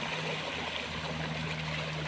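A natural waterfall and stream at Huai Heng Mi pours steadily over rocks, a continuous broadband rush of water with no breaks, heard fairly close and alone.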